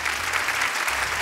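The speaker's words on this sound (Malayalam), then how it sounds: "അതുകൊണ്ട് കൈയടി കൊടുത്തേ." Audience applause at a large stage event, a dense steady clapping from a crowd filling the whole moment, loud and continuous without a break.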